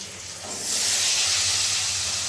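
Potatoes frying in a pan give off a loud, steady hissing sizzle that swells after a moment and holds, close with no voices.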